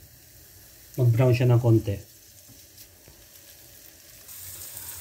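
Guanciale sizzles softly in a pan as a steady faint crackle under a short burst of speech, with the frying getting a little louder toward the end.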